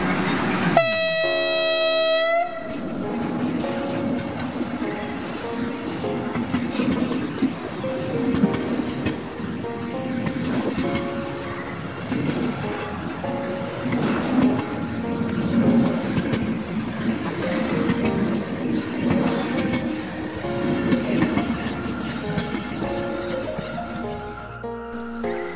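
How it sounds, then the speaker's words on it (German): Deutsche Bahn City Night Line night train running, opening with a brief horn-like tone, then a steady, loud rolling rumble of the carriages that continues alone for the rest of the stretch. "der City Night Line, der Nachtzug der Deutschen Bahn"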